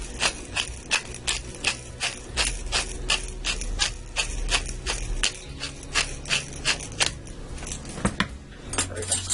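A pepper grinder cranks out black pepper for steak soup, a steady run of fast, dry ratcheting clicks close up that goes on for several seconds with a brief pause near the end.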